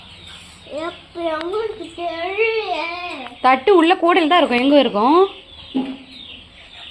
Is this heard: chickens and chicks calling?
yes